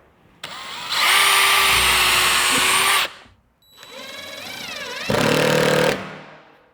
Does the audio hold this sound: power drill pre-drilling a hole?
yes